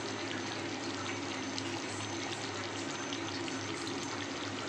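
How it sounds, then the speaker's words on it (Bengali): Hot water pours steadily into a simmering banana kofta curry as a continuous close, loud rushing stream with no break and no talking. "আমি এখানে একটুখানি গরম জল বসিয়ে দিই"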